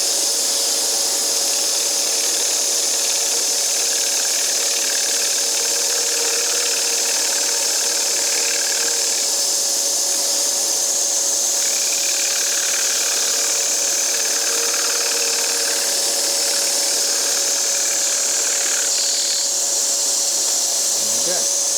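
A power saw blade, likely a bandsaw, cuts a wooden clock workpiece, a steady mechanical hum with a constant whine and a faint, varying cutting rasp as the piece is turned, continuing for about twenty seconds.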